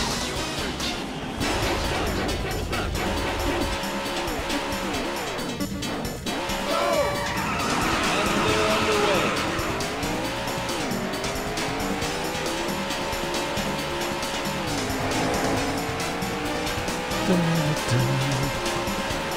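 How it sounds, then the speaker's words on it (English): Race car engines in the arcade racer Daytona USA whine and rise through the gears, with repeated tire squeals and a crash-like impact over a steady loud roar. "Gentlemen, start your engines"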